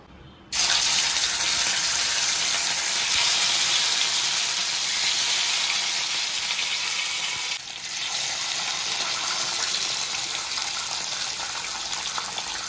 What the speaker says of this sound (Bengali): যতক্ষণ মাছটা ভাজা হচ্ছে